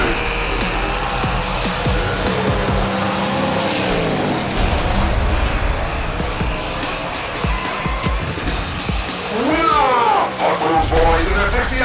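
Drag race cars, including a 1968 Chevrolet El Camino, roar down the strip at a hot rod event, with loud continuous engine noise and a tire squeal near the end, under an announcer's voice.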